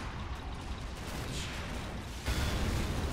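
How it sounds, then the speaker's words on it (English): A Panzerschreck blast in the World War II strategy game Men of War: Assault Squad 2 erupts amid dense, rumbling battlefield noise, with a sharp, louder burst near the end over continuous gunfire and artillery din. "that Panzerschreck right there caused that huge explosion"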